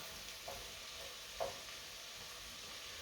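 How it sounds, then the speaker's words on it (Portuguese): Chopped onion frying in oil for a risotto, stirred constantly so it won't burn: a low, steady sizzle with two brief scraping clicks of the spoon against the pan, quiet and without talk. "Aqui, a gente vai fritar a cebola, sempre misturando para a cebola não queimar."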